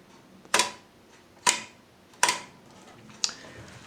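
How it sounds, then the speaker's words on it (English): A Kodak 6-20 Brownie Model E camera shutter clicks four times at an uneven pace, each a crisp, close mechanical snap over quiet room tone. "when I release the button the shutter closes"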